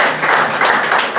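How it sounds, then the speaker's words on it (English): A workshop audience applauds, a dense, close burst of clapping that holds steady for a short stretch. "Let's give him applause first."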